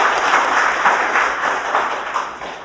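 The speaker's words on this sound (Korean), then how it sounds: "큰 박수로 다시 한번 좀 격려 부탁드리겠습니다" An audience at a Korean forum event gives loud, dense applause, a continuous roar of many hands clapping close and strong throughout.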